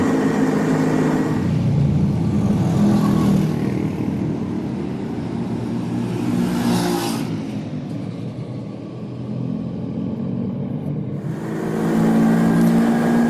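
A vintage MZ ES 250/2 two-stroke motorcycle rides along an Alpine road, its engine a steady close rumble that swells and eases with throttle, wind noise mixed in, no talk.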